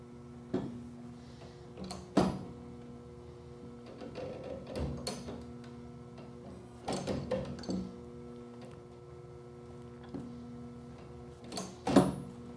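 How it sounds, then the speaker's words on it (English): A Qubica AMF bowling machine without rubber bumpers clunks in several irregular, sharp knocks over a low, steady mechanical hum, heard fairly close with quiet gaps between the impacts. "It is making a clunking noise because I do not have any rubber bumpers."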